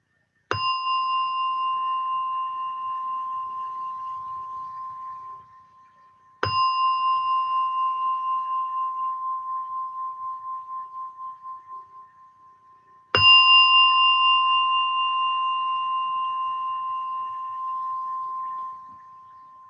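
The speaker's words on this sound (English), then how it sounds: "as you hear the gong, slowly come out from meditation" A gong is struck three times to end a meditation session. Each strike rings out bright and resonant, then decays slowly over several seconds in otherwise quiet surroundings. The third strike is slightly louder.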